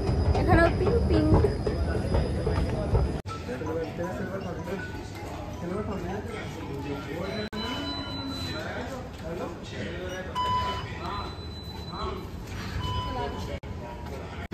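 A Delhi metro train runs at a station, its rumble and wheel squeals louder at first before dropping to a steadier hum, with electronic tones and announcements and people talking nearby throughout.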